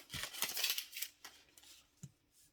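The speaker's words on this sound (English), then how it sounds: "we get the scissors and we cut the excess, a little piece, because it's a bit too long" Scissors trim excess card paper for a Stampin' Up card set, giving several quick, crisp snips close up, then a pause and a final cut.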